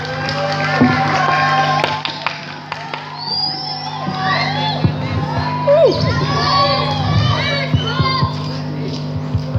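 A school quiz audience, many of them children, claps, shouts and cheers in a lively, noisy crowd. Scattered voices call out through the din.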